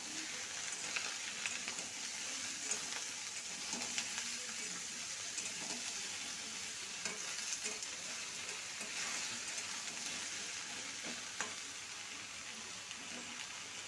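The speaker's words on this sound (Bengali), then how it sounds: "এবার আমি লাউটাকে বেশ 5-7 মিনিট ধরে ভেজে নেব" Bottle gourd frying in a pan, a steady soft sizzle with faint crackles running throughout at low level, no voices.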